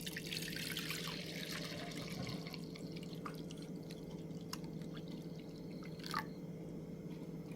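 Warm milk being poured into containers to set homemade yogurt gives a faint, quiet trickle with a few soft drips and splashes over a steady low hum.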